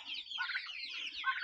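Ordinary backyard chickens, some hatched by a hen, cluck softly near a chicken tractor in a brief, continuous stream of chattering calls, with no voices over them.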